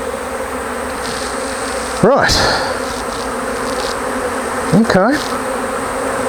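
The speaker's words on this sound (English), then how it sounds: "Release the bees." Honey bees from the bottom box of an opened hive produce a dense, continuous buzzing drone throughout, while someone speaks briefly and two short whooshing handling noises cut in.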